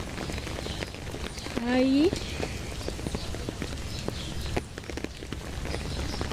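Rain pattering steadily on a surface, a dense wash of small ticks, with a brief rising whistle-like tone early on.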